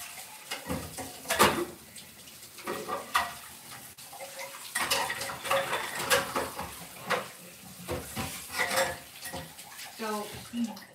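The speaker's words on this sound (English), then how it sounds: "Let me wash it because it has eggs in it." An egg-covered mixing bowl is washed under running kitchen water, with irregular bursts of clinking dish contact and splashing spread through the whole stretch.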